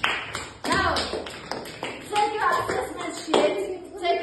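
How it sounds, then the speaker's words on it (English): Children in a classroom clap for the winning group, a burst of scattered, uneven hand claps and taps mixed with voices and chatter, fairly close and lively throughout. "now clap for the winners"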